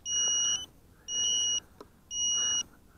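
A Redcat Carbon 210 racing quadcopter gives three regular electronic beeps during binding, each about half a second long with short gaps, close and clear, and a faint click between the last two.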